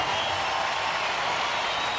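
A baseball stadium crowd during a late-inning at-bat in Cincinnati gives off a dense, steady wash of cheering and clapping, broad and unbroken for the whole stretch.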